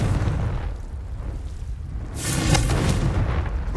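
A Confringo fire spell exploding in the video game Hogwarts Legacy, a dense rumbling boom with a bright crackling burst midway, loud and sustained over continuous game ambience.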